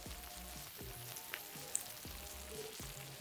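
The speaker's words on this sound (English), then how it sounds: "Can you hear the sizzling of the sandwich?" A sandwich sizzles quietly and steadily up close in a 12V sandwich press with grill plate, a soft, even crackle with a few tiny pops and no one speaking.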